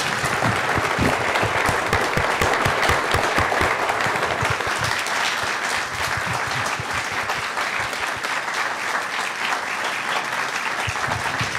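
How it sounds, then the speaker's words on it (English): A book launch audience applauds the author with sustained, dense clapping from a crowd that fills the room, steady and loud throughout, with no voices over it. "Please give Minelle a round of applause"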